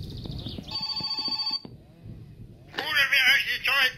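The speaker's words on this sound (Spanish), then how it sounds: "¡Ojo! ¡Teléfono!" A telephone rings in the driving game My Summer Car, with electronic ringing tones in bursts over a low hum. Someone speaks partway through.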